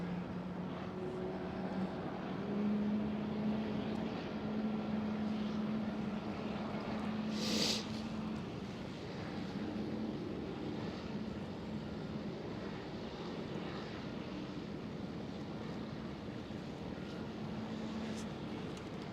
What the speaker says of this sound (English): Right there, the Cargolux 747 approaching runway